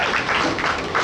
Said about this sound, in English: And she gets a round of applause.